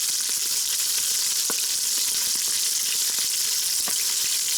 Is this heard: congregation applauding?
no